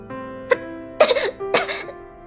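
Three sharp coughs, each followed by a rasping throat-clearing catch, spaced evenly a moment apart and heard alone, close and forceful.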